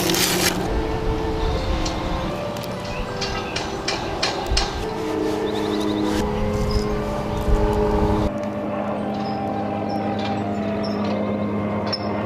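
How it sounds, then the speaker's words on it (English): Outdoor construction work going on behind a house, a steady broadband rumble with scattered knocks and clanks, fairly loud and continuous, with machinery tones shifting partway through. "I apologize for the noise. It's a lot of construction going on in the back"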